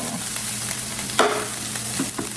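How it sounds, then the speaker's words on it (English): Chopped vegetables frying in a little vegetable oil in a skillet, a steady close sizzle with a few spoon stirs and scrapes against the pan, no voices. "So I have a little oil, a little vegetable oil in the skillet. We're gonna add the chopped up vegetables."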